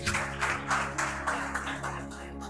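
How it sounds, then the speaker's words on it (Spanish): A church congregation claps during a pastor's sermon, rhythmic clapping in steady unison beats over an amplified hum, moderately distant and fairly soft. "Den un aplauso a Jesús."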